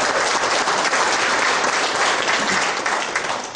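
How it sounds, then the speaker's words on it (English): An audience at a 70th birthday celebration breaks into a steady round of applause, dense and continuous throughout before easing slightly at the end. "Give him a round of applause."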